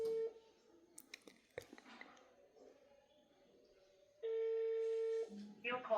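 A phone call rings out as a ringback tone, a steady electronic beep heard briefly at the start and again for about a second near the end, with quiet handling noises and some voices around it.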